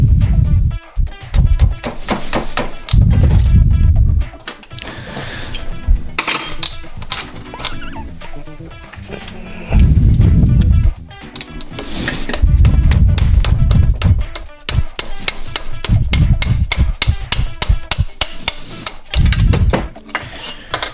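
Hammer taps on a Kawasaki 650 SX jet ski engine during a teardown rebuild with a seized front cylinder, heard as repeated loud metallic knocks in uneven bursts alongside workshop clatter.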